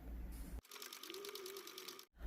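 A sewing machine stitches a fabric bucket hat in a fast, even mechanical run of needle strokes with a motor whine, starting abruptly and stopping after about a second and a half, loud and close.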